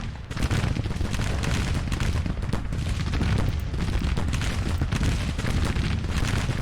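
Six-pounder artillery guns firing in the Grand Tactician Civil War video game, a dense continuous fusillade of booming reports and crackling gunfire rolling on steadily without pause.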